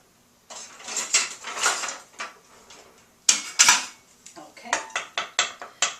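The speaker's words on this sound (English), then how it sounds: "In a bowl, I'm going to mix 2 eggs." Two eggs are mixed in a bowl with a spoon, producing a series of sharp clinks and scrapes against the bowl, irregular at first and then settling into quicker rhythmic taps, close and fairly loud.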